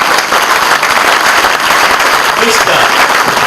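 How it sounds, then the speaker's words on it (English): Sustained applause from an audience at an induction ceremony, a dense steady wash of clapping at close range that fills the whole stretch without pause. "Join me with a rounding applause"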